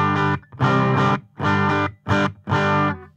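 An electric guitar runs through a Quilter Interblock 45 with no impulse response, giving harsh, fizzy, glitchy distortion in five loud, separate strummed bursts with short silent gaps between them.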